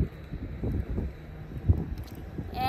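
Steady wind buffets the microphone with low rumbling gusts at the Royal Gorge Bridge in Canon City, Colorado, and a faint high tone creeps in near the end.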